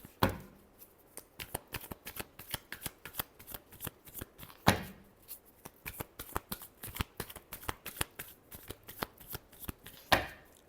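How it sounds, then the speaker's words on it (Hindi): A deck of tarot cards is shuffled over and over in a steady run of soft riffling flicks, close by and fairly quiet, with a few sharper snaps along the way. "last shuffle"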